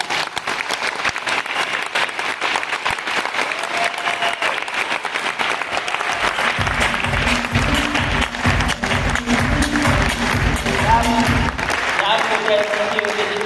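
A group of people clapping their hands together, with scattered claps at first and then a steady, rhythmic round of applause in unison that fills the room, with voices mixed in behind it.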